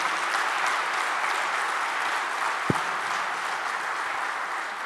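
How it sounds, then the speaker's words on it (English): An audience at a Poultry India Expo knowledge day event applauds the chief guest with steady, dense clapping at an even level throughout, with a single brief thump partway through and no talk. "A loud round of applause for him, please."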